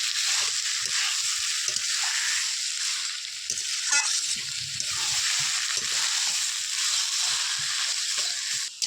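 Crab is stir-fried in a pan with ripe ash gourd and potatoes, Bengali village style. A loud, continuous sizzle runs throughout, broken by scraping and stirring clatter, with no talk.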